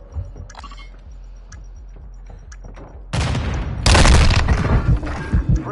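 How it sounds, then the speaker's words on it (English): A planted bomb detonating in the shooter game Call of Duty: Modern Warfare 2, a loud sudden blast bursting in after quieter scattered in-game noises and rolling on with heavy rumble and debris crackle. "device is set. Stand by to detonate."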